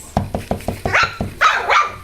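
A young puppy barks in a quick string of about seven sharp yips, close and loud, followed by a couple of higher whiny barks.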